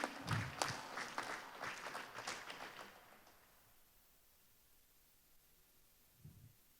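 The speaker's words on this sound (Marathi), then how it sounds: "जोरदार टाळ्या होऊन जाऊ द्या." An audience at a Marathi stage music programme in Nagpur gives a short round of faint, scattered clapping for a few seconds, which then fades into quiet room noise.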